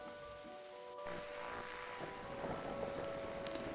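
Steady rain falls at night in a video game set in Twin Lakes, a continuous broadband hiss under faint game music tones, with no voices.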